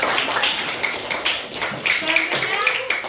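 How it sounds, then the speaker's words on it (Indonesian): Classroom applause for a student group presentation, a lively patter of many hands clapping unevenly, with children's voices chattering through it. "beri tepuk tangan buat kelompok olahraga 3"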